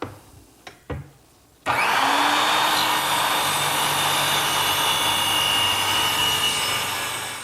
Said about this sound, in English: I like to use a straight edge and a circular saw